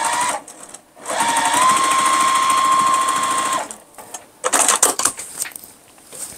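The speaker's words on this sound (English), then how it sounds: "I'm gonna make sure that my seams are laying in the way that they should be as I stitch over them" A sewing machine stitches over quilt block seams for a starry pumpkin quilt block, running loud and close in a steady whirring burst of a few seconds, then giving shorter starts and stops.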